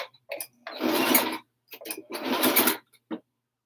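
A sewing machine straight-stitches fleece in two loud, close, whirring runs, each about a second long, separated by brief clicks and handling noises.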